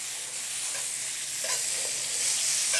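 Butter and fat sizzle steadily in a carbon steel pan, a close, even hiss that swells slightly with faint stirring clicks, no voices.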